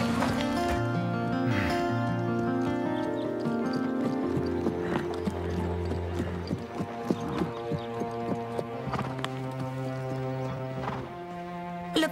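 A horse trots in a riding lesson, its hooves clip-clopping in a steady rhythm under a constant musical background, the hoofbeats moderately close and continuing throughout.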